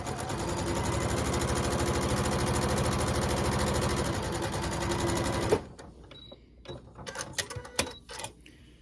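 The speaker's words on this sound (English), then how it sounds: "just put your machine at 1/4 inch and just sew straight down, following your presser foot" Sewing machine stitching a straight quarter-inch quilt block seam, a loud steady close mechanical whir for about five seconds, then stopping, followed by light fabric handling and clicks.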